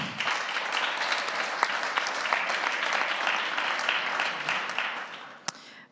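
Sustained applause from an audience at a salon-style panel discussion, a dense steady patter of clapping that tapers near the end with one sharp final clap.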